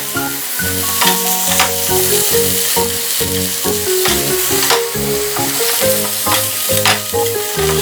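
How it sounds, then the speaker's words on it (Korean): Zucchini and vegetables stir-fried over high heat for wolgwachae, a Korean royal court dish. A continuous loud sizzle runs close up throughout, with repeated scraping and stirring strokes and no voices. "볶을 때 조금 센 불로 볶아주세요."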